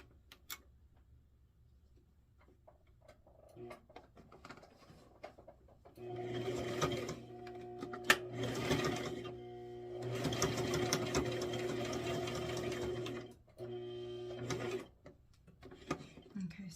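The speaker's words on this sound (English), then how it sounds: "So we're going to go ahead and sew those on right now." Sewing machine stitching neck straps onto a kitchen apron, running in several bursts of steady whirring hum, close and fairly loud, with quiet handling clicks between runs.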